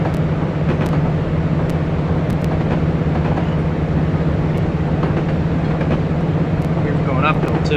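A train in Train Simulator 2020 runs at full throttle while climbing uphill, giving a steady, loud rumble with a constant low engine drone throughout and faint higher squeals near the end.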